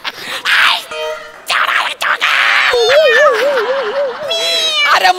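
An actress on a Marathi comedy stage show imitates a cat with her voice, making loud, wavering, drawn-out meows and yowls in short bursts. Other performers talk between the mews.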